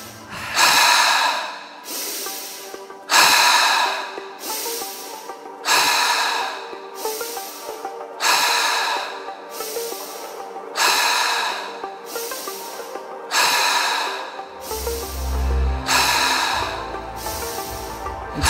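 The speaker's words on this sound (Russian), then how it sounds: "Вдох, выдох, вдох, выдох, вдох, выдох." Deep breathing exercise with forceful inhales and exhales, a long series of loud, close breaths in a steady rhythm of about one every one to two seconds, heard alone without talk.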